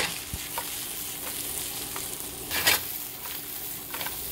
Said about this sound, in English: So we're just going to sauté these off quick.